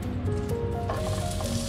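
Minced scallion, ginger and garlic sizzle in hot oil in a home kitchen wok, a steady, quiet hiss and crackle running throughout with faint tonal kitchen hum underneath.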